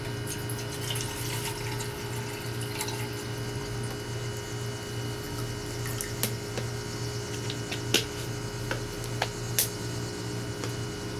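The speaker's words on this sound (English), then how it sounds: "we'll go ahead and fill up our canteen cup" Water pouring from a container into a metal canteen cup, a continuous trickling stream with a low steady hum beneath and a few sharp clinks toward the end.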